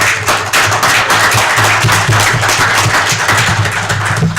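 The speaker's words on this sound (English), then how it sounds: "I certainly think a round of applause is appropriate for Supervisor Rank" Sustained applause from the assembled members and attendees of a county board meeting, a steady dense wash of many hands clapping that fills the whole stretch at even loudness, with faint low hum underneath.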